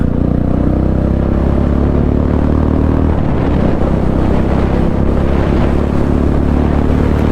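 Royal Enfield Bullet motorcycle accelerating hard in second gear, a loud, steady close-up engine drone with strong low thump and wind rush, no voices.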